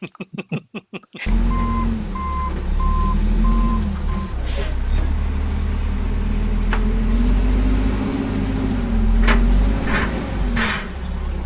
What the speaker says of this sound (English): I think it's time to back the truck up.